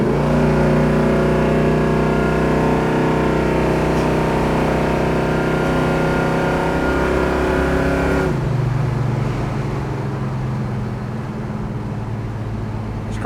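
A 1969 Chevrolet Chevelle engine accelerates hard and loud up through the gears, then shifts to a lower, rougher roar as it keeps driving, with no talking.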